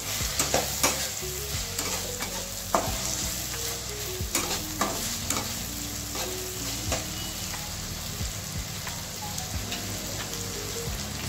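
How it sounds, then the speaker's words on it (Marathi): Onions and garlic cloves sautéing in a pan for paneer masala, with a steady close sizzle and occasional stirring scrapes and clinks throughout, no voices. "या सगळ्या जिन्नसला एकदम चांगलं मऊ होईपर्यंत थोडंसं परतून घ्यायचं।"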